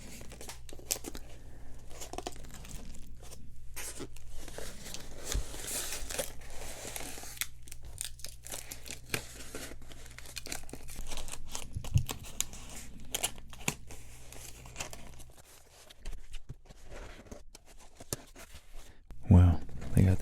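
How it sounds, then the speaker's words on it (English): Old book from 1658 being unwrapped from corrugated cardboard packaging, with close, soft crinkling and tearing rustles running throughout, under quiet speech. "they got this thing really cocooned in this corrugated cardboard stuff here"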